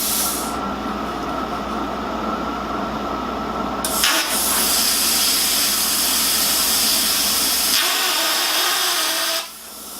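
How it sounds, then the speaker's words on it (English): A plasma cutter running with a poor ground, producing a loud, continuous harsh buzzing hiss that shifts in tone partway through and then drops off near the end, close and alone. "Now we're not getting a good ground when it makes that sound."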